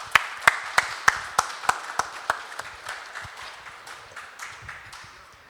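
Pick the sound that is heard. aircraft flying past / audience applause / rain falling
audience applause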